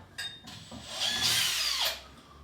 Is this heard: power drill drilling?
yes